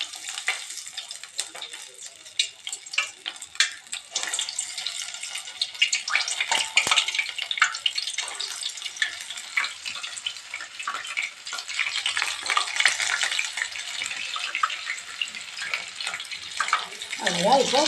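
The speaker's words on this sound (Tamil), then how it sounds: "இப்போ நம்ம வடை போடலாம். எண்ணெய் காஞ்சிச்சு." Urad dal vada batter drops into hot oil and sizzles, a bright crackling hiss that builds and keeps bubbling steadily, close up, with a voice talking over it at times.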